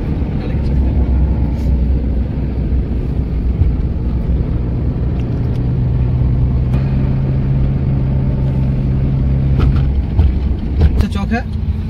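Steady engine rumble and road noise heard from inside a moving car, continuous and fairly loud throughout, with a brief hum rising midway and a few clicks near the end, while a person talks over it.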